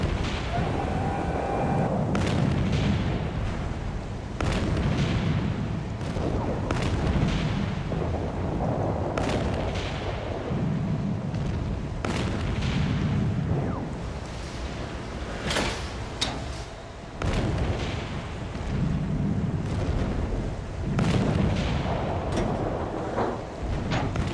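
Naval artillery fire from British warships battering the German cruiser Graf Spee in the 1939 Battle of the River Plate, a dense run of repeated booms and crashing blasts over a rumbling background.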